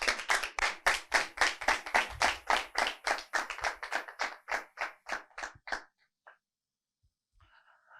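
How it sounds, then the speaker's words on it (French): TV show audience clapping in a rhythmic, unison beat, about twenty sharp claps at a steady pace that slow and thin out before stopping, followed by near silence with a faint brief sound near the end. "On applaudit"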